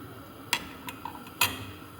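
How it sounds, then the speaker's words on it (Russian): A spoon stirring warm milk and banana pieces in a saucepan, two distinct metallic clinks against the pot with a few softer taps between, quiet and close with no voices. "Перемешиваем, чтобы дно не прилипало."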